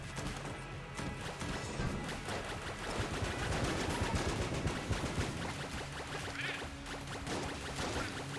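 TNT explosions in hard mode of the video game Enter the Gungeon burst repeatedly amid a dense, continuous barrage of crashing game effects and gunfire, loud throughout with no voices.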